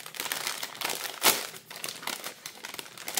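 Crinkling wrapping paper being torn open from an advent calendar gift, a close, continuous rustle and crackle with one sharper rip partway through.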